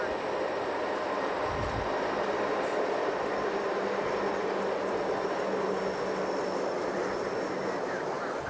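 A long Norfolk Southern freight train rolling by along the Mississippi River route, a continuous rumbling clatter of wheels and cars at moderate distance, steady and unbroken, with no speech.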